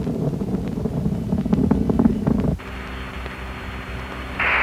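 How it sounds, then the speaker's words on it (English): Space Shuttle Columbia's main engines roar during ascent in a loud, broad rumble that cuts out abruptly at main engine cutoff, leaving a lower steady hiss and hum. "Right now, the engines are generating over 42 million horsepower."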